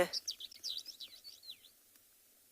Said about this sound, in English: He's one of the larks.